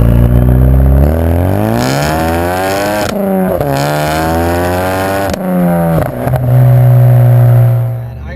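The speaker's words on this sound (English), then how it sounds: "It sounds fantastic too at full bore like that." An EcoBoost Mustang with a Cobb Stage 3 exhaust roars at full throttle, its exhaust note climbing in pitch through several hard, loud pulls with brief drops at each gear change.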